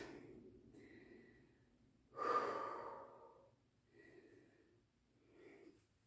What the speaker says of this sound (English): Take 2 more deep breaths.